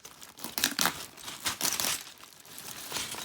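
Plastic baggies of thrift store Lego bricks being torn open and handled, a close, continuous crinkling and crumpling with sharper bursts of rustle throughout.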